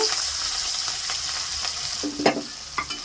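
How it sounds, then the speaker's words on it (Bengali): Chopped onion and capsicum for restaurant-style chilli chicken hiss in hot oil, a steady close sizzle with a few louder scraping stirs near the end. "এগুলো একটু ভেজে নেবো অল্প করে, খুব একটা ভাজবো না"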